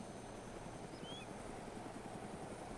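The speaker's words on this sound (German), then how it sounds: "da schwebt was in der Luft. Da ist ein Heli" A helicopter in the video game DayZ Epoch produces a steady, distant rotor and engine drone that holds evenly throughout, with no voices.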